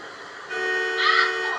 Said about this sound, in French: Pourquoi tu klaxonnes, tête de noix?